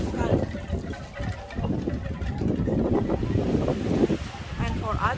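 Kano boat on the water, with waves sloshing, wind buffeting the microphone and an engine-like rumble underneath, while people talk nearby.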